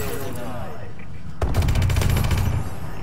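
Gunfire in Call of Duty: Advanced Warfare, where a 203 grenade launcher is in use, a sudden loud burst of rapid rattling shots after a voice talks briefly, then dense sustained fire.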